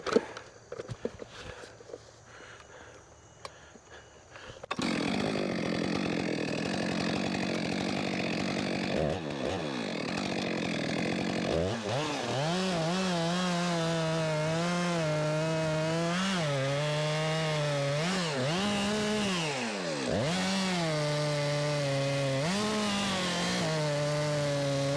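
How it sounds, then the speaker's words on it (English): After a few seconds of footsteps and rustling, a chainsaw roars to life and runs continuously while cutting into a large leaning tree, its engine pitch rising and dipping repeatedly as the bar bites and eases through the wood. "I'm kind of scribing a circle around this thing so my chainsaw can follow through with it the whole way."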